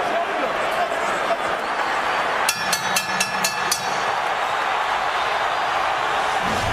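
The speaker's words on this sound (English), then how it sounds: "Crowd starting to get into it" Arena crowd noise during the Manny Pacquiao vs Shane Mosley boxing match, a steady loud roar with a short burst of sharp rhythmic impacts in the middle, under faint commentary.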